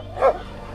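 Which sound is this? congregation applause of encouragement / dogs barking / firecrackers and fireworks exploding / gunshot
dogs barking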